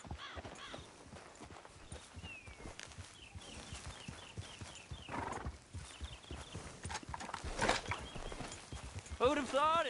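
Horse hooves clip-clop steadily over a busy Red Dead Redemption 2 game soundscape, with a horse's whinny near the end and voices talking throughout.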